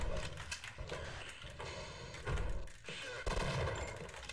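Gunfire in Half-Life: repeated quick shots and bursts in the game, fairly dense and sustained, with speech faintly mixed in beneath the shooting.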